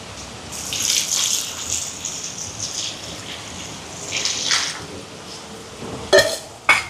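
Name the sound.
water poured into cooking pot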